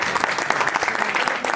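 A short burst of steady clapping from a gathered audience at a press conference in Montevideo, dense and even, close by.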